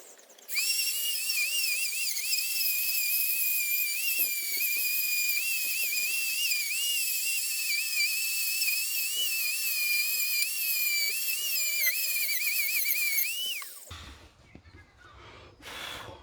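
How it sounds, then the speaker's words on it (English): A Dremel rotary tool trims away the sharp top edge of a metal 12V switch panel, giving a loud, steady high-pitched whine for about thirteen seconds before it winds down and stops. "got to admit, the Dremel's a great little tool"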